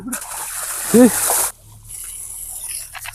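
Close water splashing and sloshing as hands and face are washed, a voice briefly cutting in, then a quieter stretch of trickling with faint background noise.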